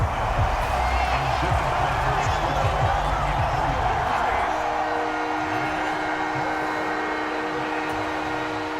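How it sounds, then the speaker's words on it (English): Stadium crowd in Madden NFL 24 during a New York Jets versus Buffalo Bills AFC East game, a steady loud roar swelling throughout under a play-by-play commentator's voice. "This crowd turning up the decibel level."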